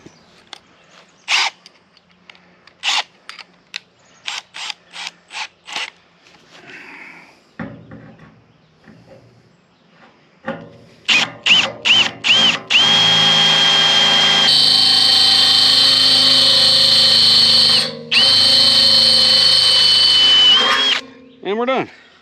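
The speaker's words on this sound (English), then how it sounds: "We've got 4 holes center punch with a drill bit to work." A power drill with a bit boring holes in a steel plate, lubricated with WD-40, starting with short intermittent bursts and then settling into a long, loud continuous whining drill run with a brief pause near the end.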